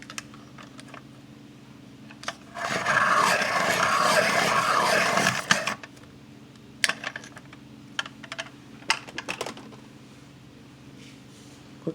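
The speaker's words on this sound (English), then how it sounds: "pencil sharpener." A hand-held pencil sharpener grinds a drawing pencil in one continuous burst lasting about three seconds, followed by scattered small taps and clicks nearby.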